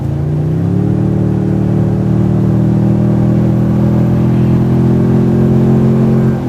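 Inside a lifted Toyota Tundra TRD Pro pickup on off-road tires, the engine hums as the truck pulls away, its pitch rising early and then holding a smooth, steady drone, loud and close with no talking.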